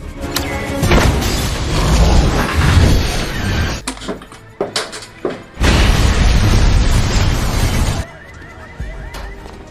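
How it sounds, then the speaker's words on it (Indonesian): Elevator blown up in an action film: loud booming blasts with crashing debris and shattering, a sudden drop to near silence around four seconds, then another heavy burst of rumbling wreckage that cuts off sharply. "Jane pun langsung meledakkan lift tersebut"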